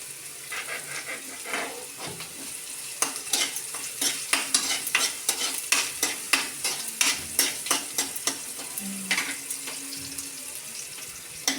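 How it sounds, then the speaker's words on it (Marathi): Onion frying in a pan and being stirred, a steady sizzle broken by a regular run of scraping, clattering strokes from a utensil; close and fairly quiet, with no voices. "आपण जर चांगला कांदा परतून घेऊया।"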